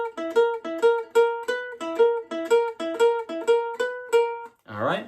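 A ukulele plays the chorus of a WWE theme, a series of bright, evenly spaced plucked note groups in a steady rhythm, ending with a brief voice.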